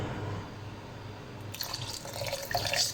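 A rice flour mixture with cardamom and custard powder is poured into milk for phirni, a soft liquid splashing and trickling that starts partway through, faint and close against a quiet background hum.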